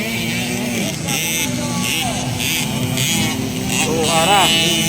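50cc motorcycles racing in a class final, engines whining and rising in pitch as they pass, with a crowd and commentator voices talking loudly over the continuous engine noise.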